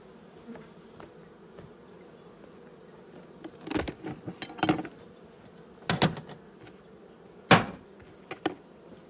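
Italian honey bees buzzing around an opened hive during a late-winter inspection, a faint steady drone close by, broken by several sharp knocks and clunks from handling the hive.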